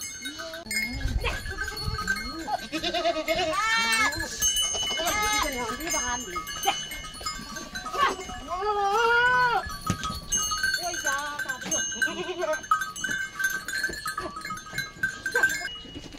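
Goats bleat repeatedly in a mountain village in Pithoragarh, Uttarakhand, with a cowbell clanking and people talking nearby, the wavering cries rising and falling across the scene.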